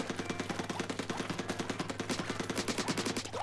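Rapid, evenly spaced shots from the Splattershot Nova weapon in Splatoon 3 fire as a steady automatic burst, close and clear, with no talking.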